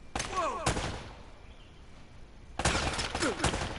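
Gunfire from the video game Uncharted: Drake's Fortune, short bursts of rapid shots at the start and again near the end, loud and sharp against a quieter gap.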